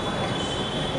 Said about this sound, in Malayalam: ഓൾറെഡി ഒരു ട്രെയിൻ കയറി വന്നു